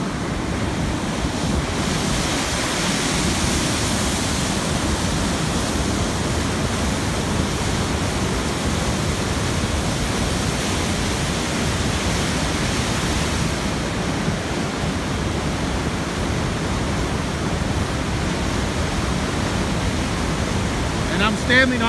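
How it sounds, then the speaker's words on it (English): The Genesee River rushes loudly on a cold, snowy winter day, a broad, unbroken roar of fast water heard close for over twenty seconds, with some wind buffeting the microphone. "And this is the raging Genesee River"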